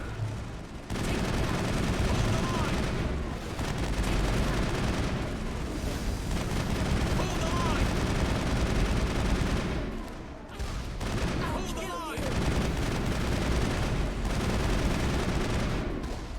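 A sniper rifle is fired in the video game Mass Effect amid dense, continuous gunfire and booming battle noise. The firing runs loud and nearly unbroken with only brief lulls, and no one speaks.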